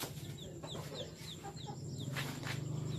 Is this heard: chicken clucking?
yes